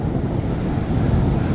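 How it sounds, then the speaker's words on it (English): Steady roar of wind buffeting the microphone mixed with rushing surf as a boat launches into large ocean waves, a continuous loud wash with no voices. "don't underestimate the size of those waves, guys"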